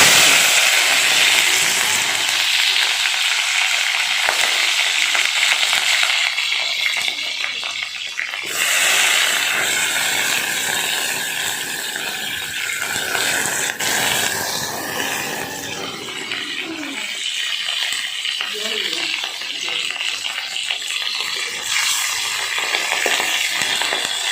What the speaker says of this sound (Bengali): এবার খিচুড়ির আগে আমি সবজিগুলোকে তেলের ওপরে ভালো করে নেড়ে নিচ্ছি প্রথমে ফুলকপিটা দিয়ে